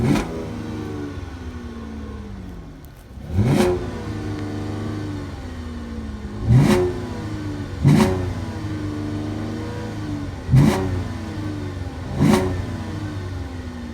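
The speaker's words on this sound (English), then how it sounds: "That's how she sounds when revved." A 2011 Cadillac CTS idles in park and is revved five times at spaced intervals, each a short rising roar that quickly falls back to a steady mid-pitched idle, recorded close up with no talk.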